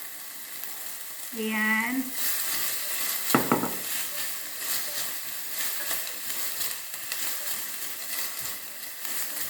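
Steady sizzling of food frying in olive oil in a pan, a continuous crackling hiss with a stir or two, while someone talks briefly over it.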